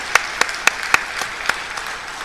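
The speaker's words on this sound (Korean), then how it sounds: "우리 서로를 한번 격려하는 박수 한번 해볼까요?" A church congregation gives a short round of applause, heard as a handful of distinct, fairly loud claps spaced roughly evenly, tapering off within about two seconds.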